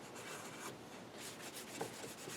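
Coconut oil being worked by hand into a cedar woodworking piece for birds, giving a steady, close dry rubbing and rasping texture that runs continuously with slight swells.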